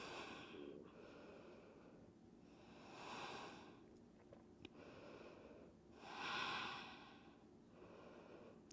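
Quiet, slow breaths during a yoga pose, soft airy inhales and exhales in long swells, a few seconds apart, faint and close with no talking.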